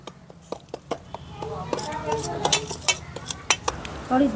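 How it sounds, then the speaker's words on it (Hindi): Spice powders being mixed for dalmoth namkeen, with utensil and bowl clinks and clatter in irregular bursts, close and moderately loud, while a person talks throughout. "अब हम इन सभी मसालों को पहले मिक्स करेंगे"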